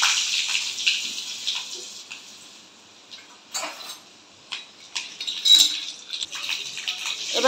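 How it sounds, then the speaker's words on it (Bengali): Peanuts frying in oil with dry red chillies and panch phoron, a bright crackling hiss with sputtering pops and a few utensil knocks, fairly close and uneven in loudness. "বাদামগুলো ভেজে নিচ্ছি।"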